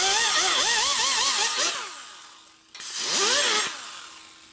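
Rotary smoothing bit porting a Harley shovelhead cylinder head from a 1974 74ci engine, a loud high whine that rises and falls, stops briefly, then spins up again for a second burst.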